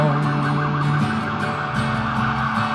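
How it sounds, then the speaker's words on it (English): Emergency vehicle sirens pass by a small gallery in Saluda, NC, rising and falling steadily for a few seconds over faint background music, fairly loud and continuous. "Vamping for a bit as the sirens go by."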